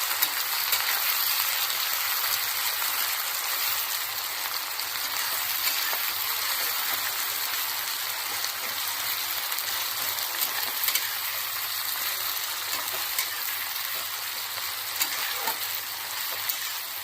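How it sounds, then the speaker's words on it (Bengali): Chopped onions fry in a kadai with bay leaves and garam masala for a Bengali mutton curry. The oil gives a steady, even sizzle and hiss throughout, with no talking. "পেঁয়াজটা যতক্ষণ না গোল্ডেন ব্রাউন হয়ে যাবে ততক্ষণ ভেজে নেব"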